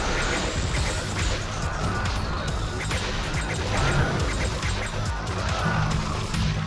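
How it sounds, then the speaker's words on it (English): Dense squawking and quacking from a flock of birds in the video game Devil May Cry 2, loud and continuous, mixed with clashing game effects. "So many birds!"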